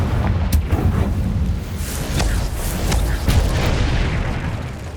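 Confringo fire spell blasts in the Hogwarts Legacy video game, several loud booming impacts a second or so apart over a rumbling battle background.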